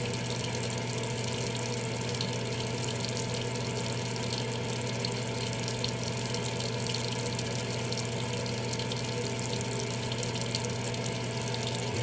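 Water from a tap runs steadily to rinse off a blade, a constant close, even rush with no pauses.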